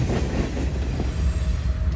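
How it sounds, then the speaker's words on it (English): A freight train rolls out of a rail yard in Chattanooga, Tennessee, giving a loud, continuous rumble of heavy wheels on track with faint squealing and steady clatter, no voices. "From trains charging out of the yard"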